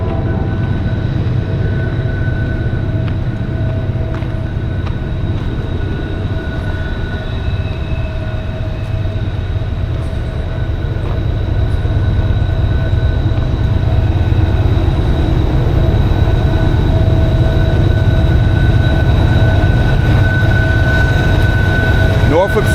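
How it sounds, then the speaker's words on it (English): A Norfolk Southern coal train rolls past beside Elkhorn Creek in Keystone, West Virginia, a steady, loud rumble of wagons and wheels that holds for the whole stretch, with faint high wheel tones over it. "Let's catch this train coming by."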